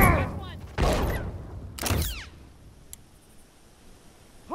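A bomb blows up in The Last of Us, a few loud broadband blasts and bursts with ringing tails, then quieter debris and scattered pops, with voices talking around the explosions.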